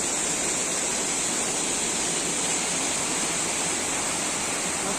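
A large waterfall in the upper Uch-Kosh gorge, more than 20 metres high, roars as a steady, dense wash of falling water, loud and continuous with no voices over it.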